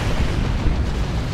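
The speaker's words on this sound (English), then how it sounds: "Tank Busters are in play to shoot that guy down." Tank Buster fire aimed at a Carnifex in the Dawn of War 2 strategy game, Orks against Tyranids: a dense, continuous low rumble of booms and blasts filling the whole moment.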